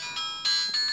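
A mobile phone ringtone sounds in short bright tonal bursts, three rising pulses in quick succession, loud and close with nothing else over it.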